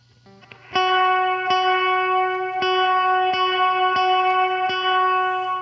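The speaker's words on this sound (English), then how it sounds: "Here's alternating between depth at minimum and depth at noon. There's just a little more attack on that." Steady repeated strums through a Death By Audio Rooms reverb pedal, switching between depth at minimum and depth at noon, ring out as loud sustained chords under a dense reverb tail, about seven even attacks with no talking.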